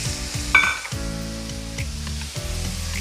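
Malabar spinach fruits (pui mituli), washed and added to a hot oiled pan, crackle into a steady loud sizzle, with a brief clatter of the spatula near the start and repeated stirring scrapes throughout, no talking.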